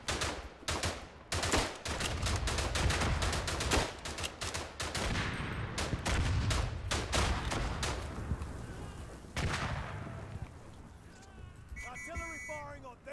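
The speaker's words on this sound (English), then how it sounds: "Artillery firing on these coordinates" Artillery and gunfire rumble in the World War I game Verdun, dense repeated booms and rapid shots packed together, loud and close, easing toward the end as other battle noise continues.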